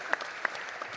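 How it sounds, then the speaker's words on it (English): Short burst of audience clapping at a jury duty community forum, a handful of distinct claps over a soft crowd bed, heard briefly and at a moderate distance. "So we have to give her a round of applause."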